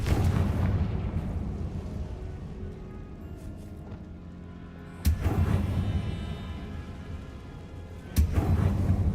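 A Confringo explosion spell goes off in the Hogwarts Legacy video game: sudden booming blasts burst out twice over a low rumbling backdrop, each followed by a sustained roar.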